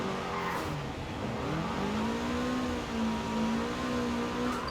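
Car drifting in Forza Horizon 4 on a snowy, icy map, its engine droning steadily with rising and falling pitch and some tire noise throughout, fairly loud and continuous with no talk.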